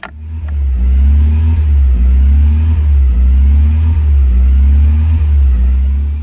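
A first-generation Mazda MX-5 engine with a sticky throttle and faulty throttle position sensor idles loudly with a deep rumble, its revs bouncing between 1,000 and 2,000 RPM every second or so.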